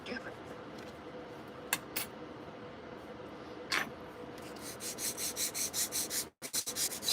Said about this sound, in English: Sand down your edges.